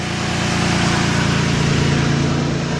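Steady, even rumble of a 2005 Chrysler 300 2.7 engine with an overheating problem idling up close, constant and unchanging throughout.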